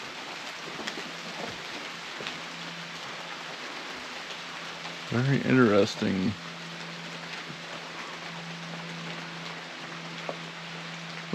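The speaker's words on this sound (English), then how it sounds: "Because it's raining and it's pouring." Steady rain pours down around a hiking shelter on Suchman Road, a constant hiss heard from beneath cover, with a brief burst of nearby speech partway through.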